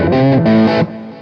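Electric guitar driven through an OCD distortion pedal into a Seymour Duncan Powerstage 200 amp: a loud, saturated sustained chord with a slight change midway, then a quieter ringing decay.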